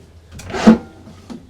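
A large storage drawer in a 2026 Jayco Redhawk 24B RV slides open or shut. It makes one soft, close sliding thump that peaks briefly, followed by a faint click, in a quiet interior.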